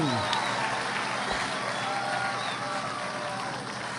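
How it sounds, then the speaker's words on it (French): A crowd at a goddess beauty contest applauds in a steady, moderately loud wash of clapping, with a voice briefly audible near the start. "Un tonnerre d'applaudissements pour la superbe Priscilla Pavone."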